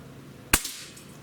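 A single sharp rifle shot from a Barra 1866 Gen-2 Cowboy Series lever-action rifle at a shooting range, loud and close, with a quick decaying echo against a quiet background.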